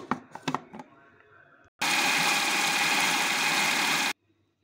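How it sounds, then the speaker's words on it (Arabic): A food processor grinds rice for kofta in a loud, steady whir lasting a couple of seconds, preceded by a few short clatters and hums and then cut off abruptly. "هنا بقى ضربت الرز ونعمته زي ما انتوا شايفين معايا"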